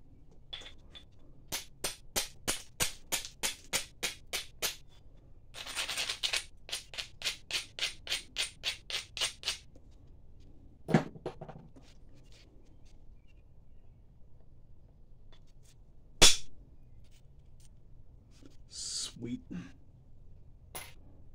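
Mookite jasper being flintknapped with a hammerstone and antler tool: rapid runs of sharp, close ticking strikes in two bursts, followed by a few isolated louder knocks and cracks with quiet pauses between.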